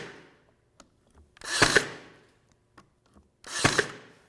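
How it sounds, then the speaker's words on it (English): Ryobi AirStrike nailer firing nails into wood, two sharp close bursts of driving noise separated by quiet handling clicks and taps. "we're going to get our airstrike nailer here and put in 4 nails"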